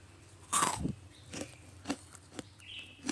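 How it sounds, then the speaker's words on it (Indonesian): A crunchy sagon cookie gets bitten with one loud, crisp crack, followed by several fainter crunching chews close to the mouth in a quiet room. "kita cobain dulu ya ini hasilnya renyah banget"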